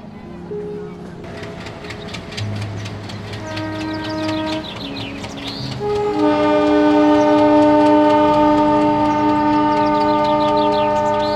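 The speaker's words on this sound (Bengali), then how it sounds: "ট্রেনের ঝিকঝিক শব্দটা যেন আরো বেশি করে ঘুম পাড়িয়ে দেয়" A passenger train runs along, heard in a Bengali audio story: a steady rail rumble is joined by long, layered horn blasts that grow louder and fill the second half.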